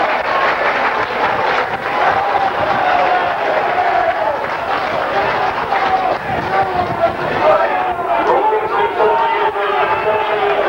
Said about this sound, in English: There's a roar from the crowd and it's through the post.